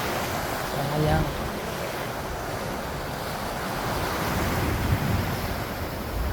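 Strong Atlantic Ocean surf breaking on a shoreline, a loud steady wash of crashing and rushing water mixed with wind noise, continuous throughout.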